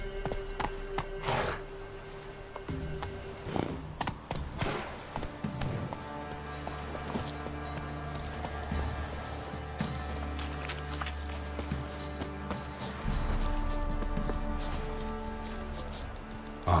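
The horse Roach gallops in The Witcher 3, a steady run of rhythmic clip-clop hoofbeats close by, with a brief whinny and a few mechanical rattles over a low rumbling bed.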